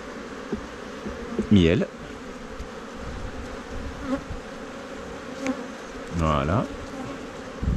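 Honeybees swarm and buzz around open hives at an apiary during a honey harvest, a steady close drone with louder passes as bees fly near, while a person speaks French quietly over it.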